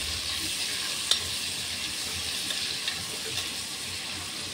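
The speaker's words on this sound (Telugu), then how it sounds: "ఆనియన్ కూడా వేసుకొని బాగా వేపుకోవాలి." Chopped onions frying in a pan for mushroom biryani make a faint, steady sizzle with a few soft stirring taps and no talking.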